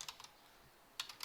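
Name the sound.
typing on a computer keyboard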